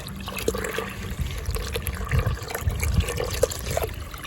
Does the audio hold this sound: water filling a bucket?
yes